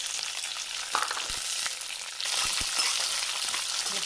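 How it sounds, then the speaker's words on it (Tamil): Garlic fries in hot oil with mustard seeds and cumin for a garlic kuzhambu, a steady close sizzle with a few soft clicks of stirring. "வெள்ளைப்பூண்டு சேர்த்துக்கோங்க."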